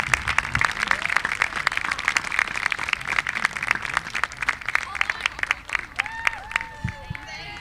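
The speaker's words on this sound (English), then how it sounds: "Let's have one more round of applause for our seniors and their parents." An outdoor crowd at a high school senior night lacrosse game applauds seniors and their parents with steady, scattered clapping, while voices and a few whistle-like calls sound underneath.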